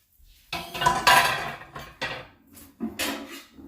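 Metal griddle plates being pulled off a home hibachi grill, a series of clanking, rattling knocks and scrapes in short bursts, close and fairly loud, with no voices.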